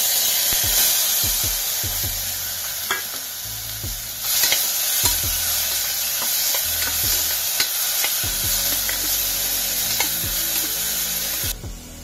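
Ground masala sizzles and crackles in hot oil after garlic has browned, with a steady hiss, punctuated by occasional spoon knocks and stirring against the pan.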